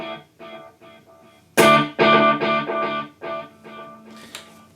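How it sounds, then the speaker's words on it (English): Electric guitar notes ring out with a rhythmic dotted eighth note and quarter note delay echo repeating behind them, building into a dense, shimmering wash before thinning out again. "a dotted eighth note delay and quarter note delay at the same time"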